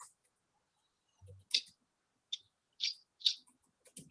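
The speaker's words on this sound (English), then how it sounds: "I'm typing that in just to see." Typing on a computer keyboard, a few faint isolated clicks and taps spaced irregularly over near silence, with no talking.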